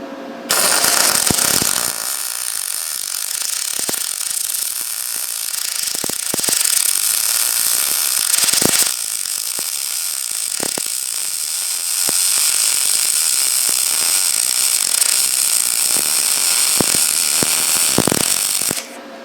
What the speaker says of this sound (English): I'm going to weld on top of this existing weld